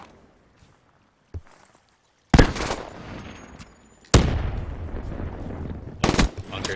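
Loud bursts of gunfire in a multiplayer shooter video game, a sharp shot near 2.3 s, then a heavy blast with sustained rattling fire and one more burst near the end, with brief quiet clicks and footsteps before.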